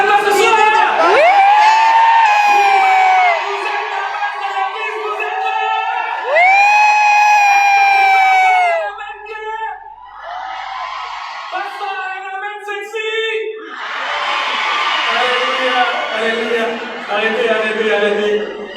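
Women in the audience at a stand-up comedy show in Montreal shout and cheer in loud, sustained bursts, with high whoops and yells rising and falling across several waves.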